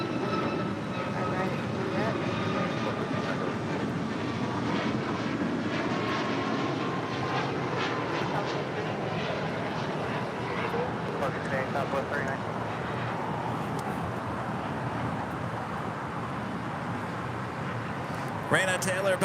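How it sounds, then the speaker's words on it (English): Bombardier Challenger 650 business jet arriving at LAX from San Jose, a steady jet engine rumble and whine at moderate distance, with people talking throughout. "This Challenger 650 coming in from San Jose, California"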